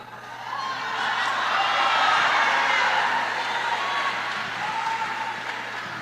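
A church congregation applauds together during a sermon, a steady wash of clapping that swells over the first two seconds, holds loud and dense, then eases slightly toward the end with no voices over it.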